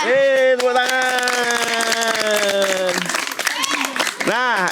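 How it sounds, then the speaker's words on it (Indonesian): Children from a youth football team clap in rapid, dense applause beneath loud, drawn-out shouting voices, the clapping continuing throughout. "Tepuk tangan."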